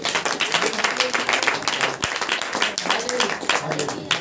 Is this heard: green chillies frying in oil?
no